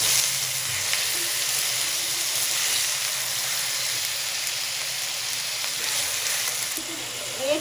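Bone-in chicken pieces sizzle in fried masala with onions for a Kashmiri dal chawal meal, a dense, even hiss of frying that stays loud and constant throughout, with no voices over it.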